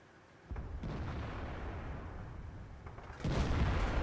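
Heavy 120mm tank cannon fire from a Tortoise in World of Tanks, with booming blasts at the start and again near the end over a loud, continuous rumble of battle noise.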